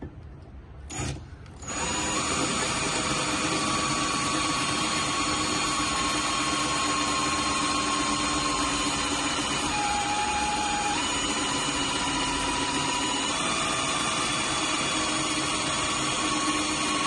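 A loud, constant mechanical whine runs nonstop after a brief rough start, a steady motor drone with a shifting high tone.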